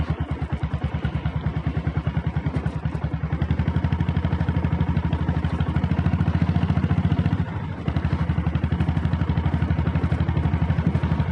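A red Deluxe self-start diesel Bullet motorcycle idling nearby, a loud, even thumping engine beat that rises briefly as the throttle is opened, drops for a moment, then settles back into its steady chug.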